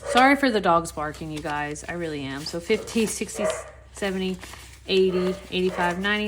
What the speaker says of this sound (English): Sorry for the dogs barking, you guys.